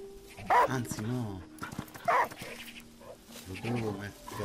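Dog in the video game Last Day of June lets out a few short barks and whimpering yips, close and clear, in separate bursts.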